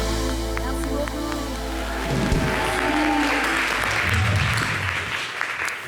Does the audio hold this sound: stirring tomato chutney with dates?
no